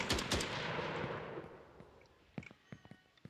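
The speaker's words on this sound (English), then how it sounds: "find the player, investigate or chase the player, and start firing at the player." Rapid bursts of automatic gunfire from a drone AI shooting at the player in an Unreal Engine 5 game, a dense loud volley at first that fades into scattered sharper single shots.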